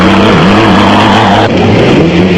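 Castrol Toyota Hilux Turbo off-road race truck at the Barberspan production vehicle race, its engine droning loud and close with a steady, slightly wavering pitch.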